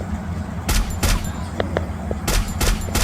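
Gunfire from the mobile game Free Fire MAX: loud, sharp shots come in quick clusters of two and three, with fainter clicks and game tones in between.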